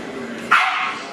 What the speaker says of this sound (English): Hey, no bark, Rudy, come on.